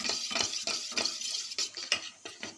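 Spoon briskly stirring soy sauce and tomato sauce together in a small bowl, rapid repeated scraping and tapping in an uneven rhythm, close and clear with no voices.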